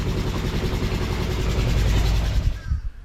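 A faulty sailboat inboard engine running loudly and roughly, with a steady, throbbing, vibrating drone close by that eases near the end.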